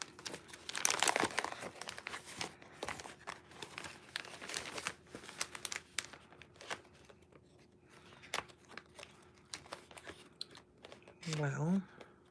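Paper is handled and crinkled during a stamping and card-making craft session, giving a long stretch of quiet, irregular rustles and crackles that ends with a short vocal sound.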